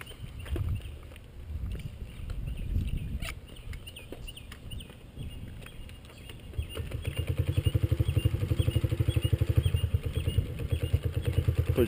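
Small motorcycle on a first ride, kickstarted and then running, with scattered clanks and sputters giving way to a steady, close, rapidly pulsing engine putter that grows louder and more even in the second half.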